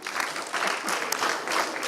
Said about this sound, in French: Applaudissons pour nous-mêmes.